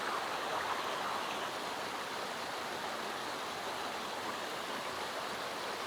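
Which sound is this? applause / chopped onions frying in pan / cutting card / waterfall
waterfall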